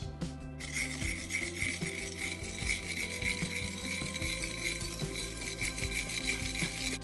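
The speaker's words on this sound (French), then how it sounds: "on va pouvoir incorporer le sucre et mélanger." Spoon scraping and rubbing in a bowl while egg yolks are mixed with sugar, a steady close rasping stir that runs the whole time with no voices.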